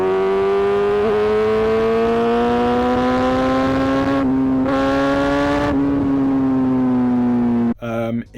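Kawasaki ZX6R motorcycle with standard downpipes and an M4 exhaust, holding a loud steady revving drone that wavers slightly and dips briefly in pitch, nearby and continuous until it cuts off near the end.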